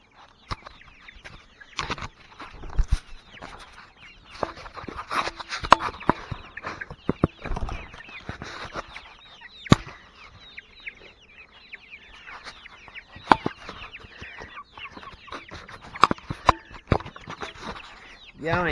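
Chickens cluck and squawk in a farmyard with intermittent bursts and some wing flapping, close and lively, while a person talks over them at times.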